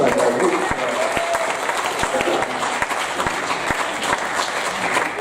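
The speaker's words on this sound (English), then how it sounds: "massive round of applause" Bar audience giving a big round of applause for two artists, a loud sustained wash of clapping with cheering and chatter mixed in throughout.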